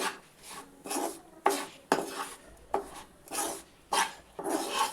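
Roasted magaj seeds (melon seeds) being mixed into flour by hand or spoon for moong dal laddu, giving repeated dry rasping, rubbing strokes in short bursts, close and fairly quiet with no talking.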